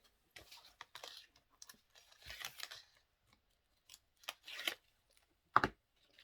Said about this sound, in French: On enlève le scotch.